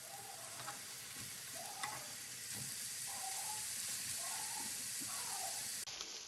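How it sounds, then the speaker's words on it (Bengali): Shaped kebabs frying in a pan give a constant close hiss of sizzling oil that holds steady with little change. "তো এটা এখন এপাশ ওপাশ করে ভালো করে ভেজে নিব।"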